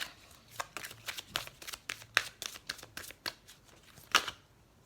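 Tarot cards being shuffled for a reading, a rapid series of crisp riffling bursts and soft flutters repeating for several seconds, close and clear, with no talking.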